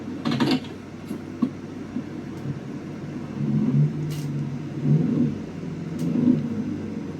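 A 2024 Toyota Tacoma TRD Pro four-cylinder engine revs in low, rumbling swells that rise and fall three times, close by and steady.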